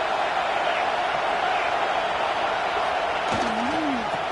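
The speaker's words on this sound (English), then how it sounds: "This crowd trying to make life miserable for this offense." A football stadium crowd roars loudly and continuously, a dense wash of cheering that fills the whole stretch without a break.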